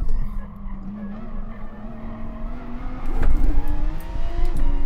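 Nissan GT-R tires lose traction in the racing game GT Sport on the Nordschleife, a rising engine whine under a brief squeal and a sharp thump near the end, loud and close with no talking.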